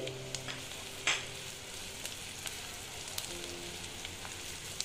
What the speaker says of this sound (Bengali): দিয়ে আমি ভেজে নিচ্ছি